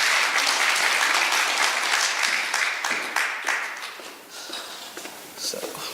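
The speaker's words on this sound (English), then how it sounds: "So give him a large round of applause and welcome Michael." Audience applause welcomes a guest speaker to a fashion design graduate school talk, a dense, steady clapping that holds strong for about three seconds and then thins into scattered claps as it fades.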